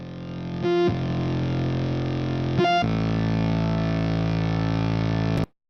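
Looped electric guitar pushed through an AC Blue speaker cabinet and captured by a ribbon mic set at the centre of the cone, a loud, sustained distorted tone with two brief choppy stutters before it cuts off sharply.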